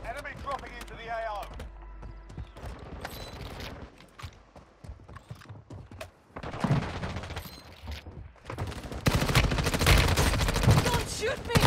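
Gunfire in Warzone Mobile, bursts of rapid automatic shots that come and go amid game noise, growing louder and denser toward the end, with someone talking at times.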